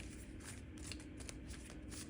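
A deck of tarot-style cards being shuffled by hand, steady continuous riffling and sliding card noise with soft rhythmic bursts, close and fairly loud, alone without talk.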